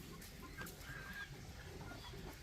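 Chickens clucking softly around a backyard coop with chicken wire and a roof, a few short scattered clucks at low level amid outdoor background noise.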